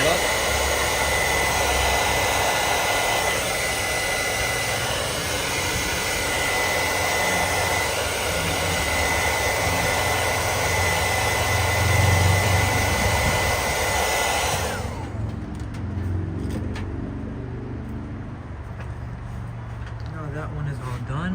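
Steady loud blowing whir of a heat gun warming a 7-inch LED headlight, held close for about fifteen seconds before it cuts out, leaving quieter room noise behind.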